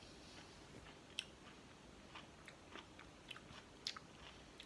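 Crisp, quiet bites and chewing on a firm, juicy persimmon of a variety like Rojo Brillante, with short crunchy clicks scattered over a low background hiss and no talking.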